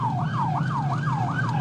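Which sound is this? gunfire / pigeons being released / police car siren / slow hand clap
police car siren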